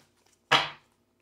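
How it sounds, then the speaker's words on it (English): Tarot cards slammed down on a surface, a single sharp loud smack that rings briefly and decays within a fraction of a second, alone in near silence. "some of them are really loud when I slam the cards down like that"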